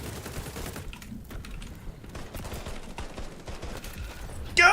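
Rapid gunfire in the online shooter XDefiant, with an AK rifle in play: quick clustered bursts of shots at moderate loudness, crackling in quick succession.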